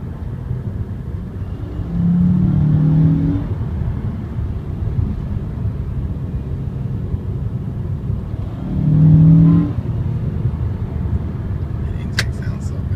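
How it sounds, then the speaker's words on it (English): Intake roar from a 2007 Honda Accord V6 rises in two surges while accelerating through the gears, a steady rumble underneath, with someone talking over the drive. "The intake sounds so good."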